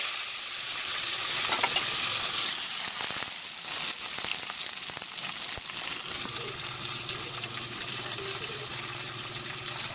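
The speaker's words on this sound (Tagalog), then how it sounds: "Prito muna natin ito." Sweet potato leaves frying in a pan, a bright continuous sizzle with crackles and bursts of stirring, close and fairly loud, no talk.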